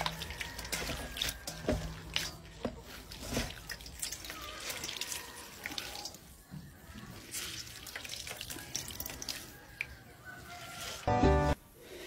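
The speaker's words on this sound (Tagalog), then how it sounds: "Nilagyan ko lang ito ng malamig na tubig saka ko ulit piniga." Cold water is poured over boiled banana blossom skin, giving soft close splashes and drips that come in uneven bursts at a low level, with a brief louder clatter near the end.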